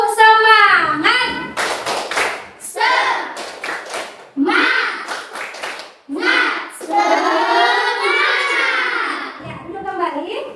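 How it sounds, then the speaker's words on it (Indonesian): Schoolchildren standing in a classroom beat out a rhythmic spirit clap, tepuk semangat, in quick patterned bursts of hand claps mixed with their chanted voices, pausing briefly between phrases. "Tepuk semangat"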